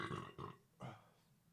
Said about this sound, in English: Burp coming.